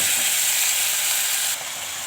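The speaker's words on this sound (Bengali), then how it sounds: "তেলের উপর দিয়ে দেবো জিরে ফোড়ন, তেজপাতা ফোড়ন।" Cumin seeds and bay leaf drop into hot oil and sizzle in a loud, dense, close hiss that holds steady, then eases slightly quieter near the end.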